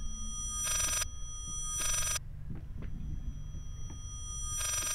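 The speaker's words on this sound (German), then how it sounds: "Das klingt wie ein Telefon, nur rückwärts." Within the video game Layers of Fear, a telephone rings in reverse: three buzzy, sustained ringing bursts, each about half a second long, swell out of a quiet, humming room, with soft thuds between them.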